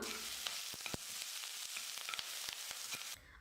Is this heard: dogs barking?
no